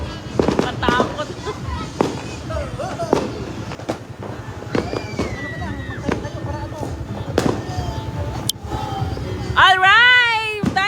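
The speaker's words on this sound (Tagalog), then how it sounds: "Done na ang ating fireworks! Fireworks show!" Outdoor New Year fireworks show with repeated sharp loud bangs and crackles in irregular bursts, whistling rockets rising near the end, and people talking and exclaiming throughout.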